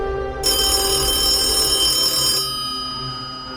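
An old-style telephone bell rings loudly and continuously for about two seconds, used as a podcast sound effect, then fades into a faint ringing tail.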